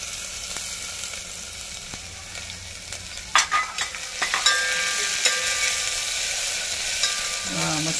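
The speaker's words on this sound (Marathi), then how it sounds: "नंतर ह्या मी मिरच्या ठेचून घेतलेल्या त्या आपण टाकतेय." Crushed green chillies hit hot oil for a traditional Konkan curd kadhi, setting off a steady, close sizzle with a few sharp crackling bursts partway through before settling back to an even fry.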